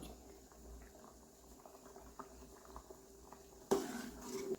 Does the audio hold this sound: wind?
no